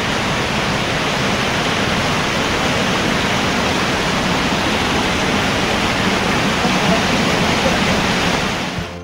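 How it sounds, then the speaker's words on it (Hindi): Rainwater rushing in a steady, loud broadband wash over a mountain road near Yamunotri during the monsoon season, continuous and close with no talk over it. "काफ़ी बारिश की वजह से देखो रास्ते पे कितना पानी"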